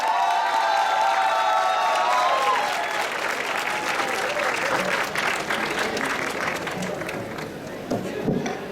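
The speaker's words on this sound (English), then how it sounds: "we gladly welcome Professor Ajay Khare with a round of applause from everybody" An audience at an academic event applauds to welcome a professor, sustained dense clapping with a few cheers and crowd noise that gradually thins over several seconds.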